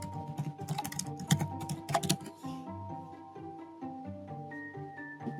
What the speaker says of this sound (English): Let's just type in commercial cleaning.